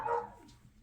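A puppy gives a single short, fairly faint bark indoors, followed by a quiet trailing whine.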